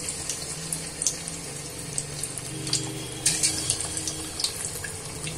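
Fish pakoras dropped into hot oil over a medium flame, street-style fish fry: a bright, crackling sizzle with scattered popping spatters, steady and close.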